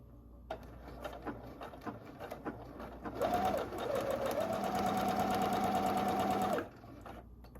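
Close by, a sewing machine runs a steady 3/8 inch seam allowance for about three seconds, after a stretch of light taps and handling noise, then stops abruptly.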